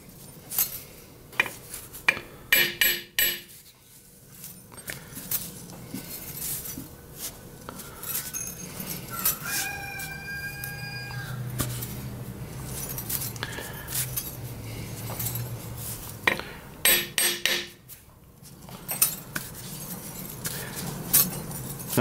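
Hammer tapping a metal crusher part to adjust it in a workshop, a few sharp metallic clinks in small bursts near the start and again later, with a brief tonal ringing in between.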